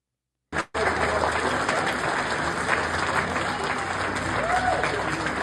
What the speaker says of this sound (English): So here is the crowd standing in applause for Marjorie Taylor Greene